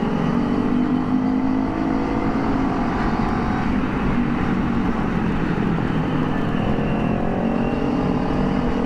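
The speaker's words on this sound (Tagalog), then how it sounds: "Grabe, ang lalakas ng tambutso nila." A CFMoto NK400 motorcycle fitted with a new, loud aftermarket exhaust pipe gives a steady, heavy, close-up engine rumble that fills the whole clip without pause, with no voices.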